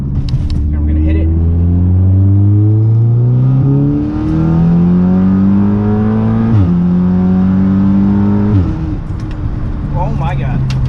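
A big-turbo Audi S3 accelerates hard through several gears, its engine note climbing in repeated rising sweeps with brief dips at each shift, loud and close from inside the car.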